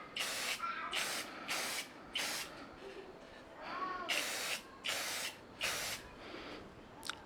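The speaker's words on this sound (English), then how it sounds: "So I'm gonna get those spray painted." Metal curtain rods being spray painted, with repeated bursts of aerosol spray hiss, about eight in a row separated by short pauses, close and fairly loud.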